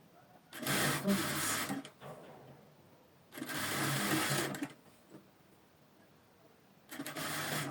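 A sewing machine stitches a folded armhole hem on a V-neck top in three bursts of fast, even whirring, with quiet pauses between runs.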